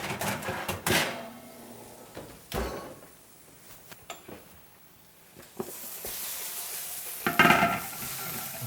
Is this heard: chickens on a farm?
no